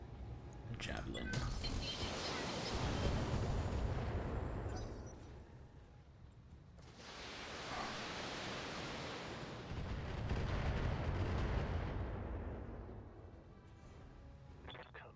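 Mech weapons fire at a Javelin mech in the BattleTech video game, two long rumbling barrages of blasts and roaring impacts, each swelling for several seconds and then fading, loud and dense throughout.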